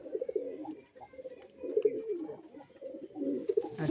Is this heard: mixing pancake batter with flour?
no